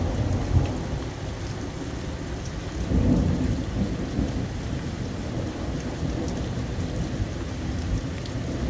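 Steady rain falls through a thunderstorm under a purple evening sky, with a low rumble of thunder swelling around the middle and continuous dense patter throughout, fairly loud and close, with no voices.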